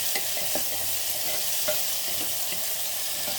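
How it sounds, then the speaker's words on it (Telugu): Onions frying with salt in a pan, a steady close sizzle with light stirring scrapes, no talk. "ఇప్పుడు మనకు ఉల్లిపాయలు తొందరగా వేగుతాయి."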